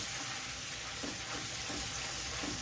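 Schezwan chutney fries in oil with ginger and garlic while being stirred continuously, a soft, even sizzle with faint scraping, quiet throughout.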